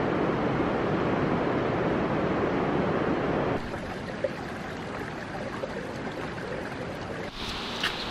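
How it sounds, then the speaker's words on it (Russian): A river rushes somewhere below a mountain road in Adjara's Kintrishi national park, heard as a steady, broad roar of moving water mixed with some wind, holding an even level throughout with no talking. "Там внизу шумит река."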